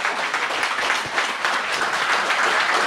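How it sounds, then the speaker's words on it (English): An audience at a live debate in Glasgow claps for the moderator in steady, dense applause that carries through the whole moment without talk. "can I have a huge round of applause to our moderator, Dr. Mark Shephard, for tonight."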